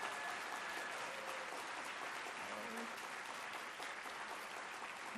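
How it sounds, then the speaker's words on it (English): An audience at the 2023 SAA presidential address gives a steady round of applause. It is fairly quiet and even, with a faint voice murmuring beneath it. "You can break out into applause whenever you so choose."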